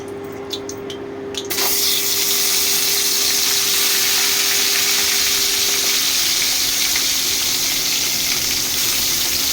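Marinated chicken hits hot oil with a bay leaf, and after a brief quiet moment a loud, steady, close sizzle bursts out and keeps crackling evenly to the end.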